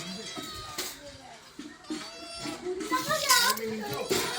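A small white kitten gives several thin, wavering meows, mixed with nearby human talk and rising louder toward the end.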